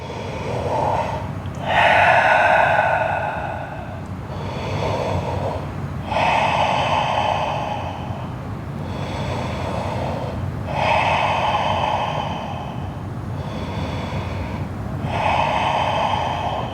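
Deep, slow yoga breathing held in downward facing dog, each long airy inhale and exhale close and steady, repeating about five times in an even rhythm with no talking.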